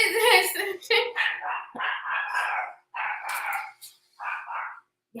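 Dogs barking repeatedly at a moderate distance, the barks coming in short irregular bursts with brief gaps between them.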